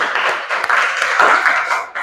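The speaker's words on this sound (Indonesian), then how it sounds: "Tepuk tangan." A class in a Quran Hadith lesson applauds after a group presentation, dense continuous clapping from many hands close by, steady and fairly loud for about two seconds.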